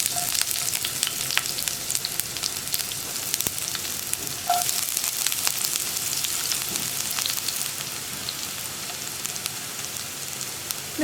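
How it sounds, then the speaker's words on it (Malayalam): Sliced onion added to hot oil with popped mustard seeds, sizzling and frying steadily with light crackles and occasional stirring clinks, close and fairly quiet, with no voices. "നമുക്കിതിലേക്ക് കട്ട് ചെയ്ത് വെച്ചിരിക്കുന്ന സവോള ചേർക്കാം"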